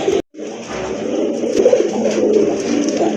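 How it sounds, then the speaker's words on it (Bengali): A pair of Sirazi Rajgolla pigeons coos continuously at close range, a loud, low, rolling warble that carries on throughout after a brief gap at the start. "খুবই সুন্দর কবুতর।"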